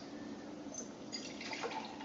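Soft trickling and splashing of water being poured into a jar, fairly quiet and close, with the pour picking up slightly toward the end.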